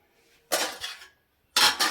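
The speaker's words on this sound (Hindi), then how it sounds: "तो कुकर में रखते हैं इंडक्शन पर आलू।" Metal pressure cooker holding potatoes set down on an induction stove, two sharp close clanks of metal on the cooktop about a second apart, each ringing briefly in a quiet room.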